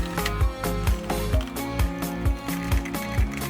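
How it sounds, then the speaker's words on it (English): Screwdriver tightening the base fixing screws on a HOROW T37 smart toilet, quick regular ratcheting clicks close by, a dozen or so in a steady run. "Tighten the base's fixing screws again."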